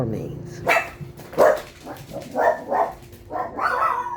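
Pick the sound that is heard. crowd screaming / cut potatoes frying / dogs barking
dogs barking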